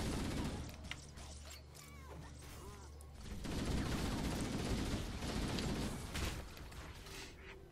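Gunfire and weapon effects from Halo: Combat Evolved, a dense stream of rapid shots and crackling impacts that grows louder and busier midway, with a low mechanical hum early on.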